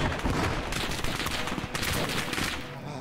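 Gunfire from the WWII strategy game Call to Arms: Gates of Hell, set at the siege of Sevastopol: a dense, loud, continuous fusillade of overlapping shots and blasts sustained throughout, with no talk.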